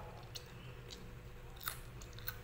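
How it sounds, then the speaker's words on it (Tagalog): Crunchy toasted french fries crunch between teeth in a few sharp close bites, faint and quiet with no speech. "Ito sa french fry, yung crunchy siya. Toasted."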